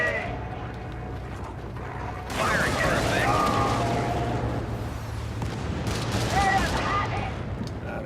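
Gunfire hits a convoy in a shooter video game, with bursts of shots and mechanical clatter in two louder stretches over a steady low rumble.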